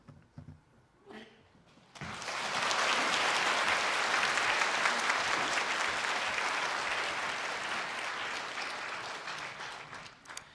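Applause from a church congregation at a Korean officer installation service, breaking out suddenly after a quiet moment and holding as loud, dense clapping before tapering off near the end.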